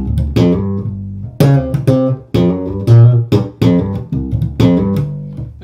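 An Ernie Ball Music Man StingRay bass with treble and mids cut and bass full plays a run of plucked notes and chords, several strong attacks ringing out with sustained low tones, loud and close, no talking.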